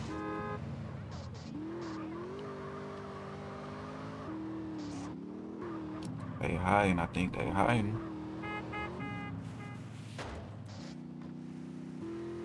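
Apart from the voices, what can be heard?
cars driving in video game GTA Underground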